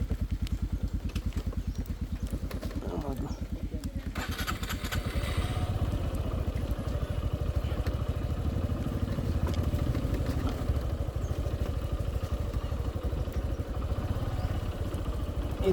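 A motorcycle engine on a muddy, rough hill road in Bandarban's Lama area chugs close and loud with a rapid low thump, then revs and strains with rising clatter after a few seconds, staying steady to the end.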